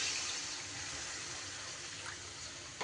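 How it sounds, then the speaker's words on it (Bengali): Water poured into a pan of simmering potato curry with besan fritters, a steady broadband gush of liquid running continuously and fairly close, with no voices over it. "এইবার আমি এখানে অ্যাড করে দেব জল।"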